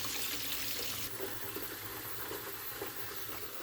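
Tap water running steadily to collect for planting potatoes, a continuous close hiss and splash that stays fairly loud and even throughout, with no talking.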